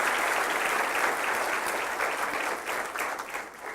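A church congregation gives sustained applause during a worship broadcast, a dense, steady wash of many hands clapping that fades slightly toward the end.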